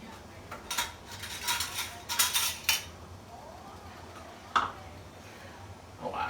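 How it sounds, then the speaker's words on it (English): Glass canning jar rims are wiped by hand while canning garden tomatoes, giving a few scattered soft rubs and light clinks up close, with brief quiet gaps between. "Oh, I gotta wipe my rims."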